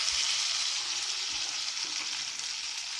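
Chopped tomatoes are added to garlic frying in a pan for a Chettinad garlic chutney, giving a steady close sizzle and hiss that stays even and moderately loud throughout, with no voices.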